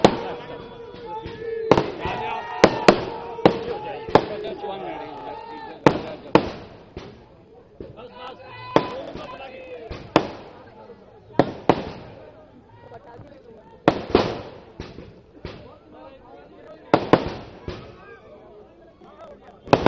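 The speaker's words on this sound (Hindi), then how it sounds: "क्या उन्होंने कहा था आतिशबाजी।" Fireworks crack and pop in scattered sharp bursts, some close together in clusters, with a murmur of voices and crowd noise between the blasts.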